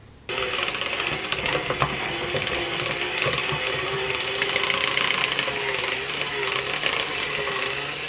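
An electric mixer beats cream cheese, butter, orange zest and orange juice into frosting, a loud, continuous whirring motor close by with rattling beater clatter running the whole time after a brief quiet start.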